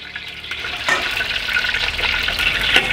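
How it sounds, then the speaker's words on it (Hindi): Dried urad dal vadi frying in hot desi ghee, a steady close bubbling sizzle with crackling spurts and some stirring, continuous and fairly loud throughout. "इसको हम इसके अंदर घी के अंदर फ्राई करेंगे।"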